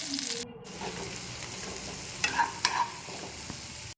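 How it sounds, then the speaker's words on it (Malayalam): Onion, tomato and crushed garlic frying in oil for ema datshi, a close, steady sizzle broken by a few sharp spoon-against-pan scrapes and clinks as they are stirred, no voices. "പിന്നെ അതിലേക്ക് സവോള, തക്കാളി, ചതച്ച വെളുത്തുള്ളി ഇട്ട് കൊടുത്ത് നന്നായിട്ടൊന്ന് ഇളക്കി കൊടുക്കുക"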